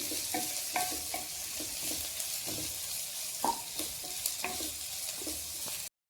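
Chillies and onions frying in plenty of oil in a pan, a steady bright hiss of sizzling with repeated light clinks and scrapes of a spatula, moderately quiet, ending abruptly.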